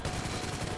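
Rapid automatic gunfire in Grand Theft Auto V, a dense, loud, unbroken burst of shots lasting under a second with no talk over it.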